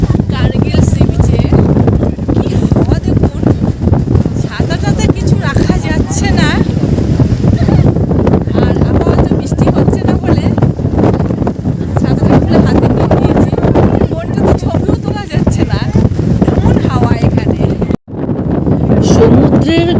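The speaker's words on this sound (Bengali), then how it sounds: "গর্জন এবং তার সাথে এই বিপুল হাওয়াটার শব্দটা অনুভব করুন" At Bakkhali beach, strong sea wind buffets the microphone in a loud, continuous roar that masks the surf of the breaking waves, with a brief dropout near the end.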